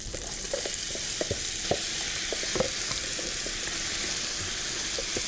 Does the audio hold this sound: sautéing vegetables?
yes